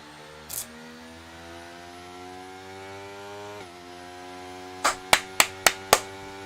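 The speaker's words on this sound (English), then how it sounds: "I was clapping my hands in celebration" Hands clap in celebration after a sim-racing round at the Las Vegas GP, a quick burst of five sharp, fairly close claps near the end, with a single earlier clap over a steady engine-like hum.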